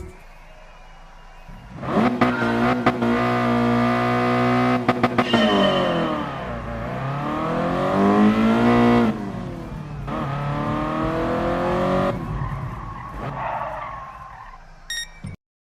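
A car in Gran Turismo Sport revs hard, then brakes into a long skid, the tyre squeal sweeping in pitch before the engine climbs again and cuts off abruptly, with no talk.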